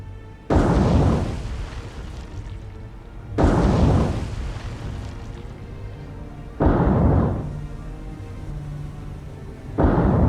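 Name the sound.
torpedo explosions hitting ships in a naval video game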